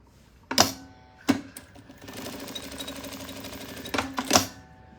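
A sewing machine stitches dark fabric for a patchwork pouch: sharp mechanical clicks, then a steady whirring run of about two seconds, followed by more clacks as the work is adjusted, close and clear.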